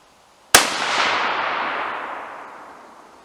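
A single sharp rifle shot from a Howa firing 40-grain Nosler Varmageddon loads cracks loud and close, then trails into a long, broad reverberating decay that fades over about three seconds, with no talking.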